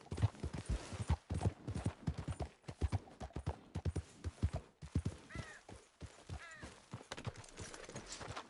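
A horse gallops in the Red Dead Redemption 2 video game, its steady clip-clop hoofbeats rapid and moderately close, with brief snorts and a whinny rising near the end.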